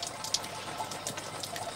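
Shower water running in a camp shower during a wild lemur expedition: a faint, steady hiss of spraying water with small splashes, heard alone.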